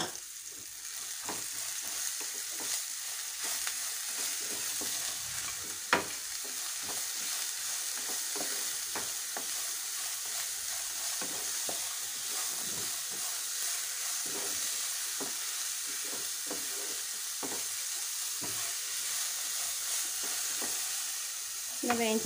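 Ridge gourd peel with a little salt frying in a pan, a steady broadband sizzle running throughout with occasional stirring scrapes and a brief clack near the middle.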